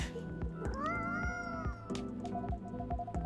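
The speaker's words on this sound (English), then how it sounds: "Aw, poor kitty. Did the machine wake you up?" A cat meows in a drawn-out, rising and falling call over a steady background hum, the voice close and clear for about a second before fading into the ambient noise.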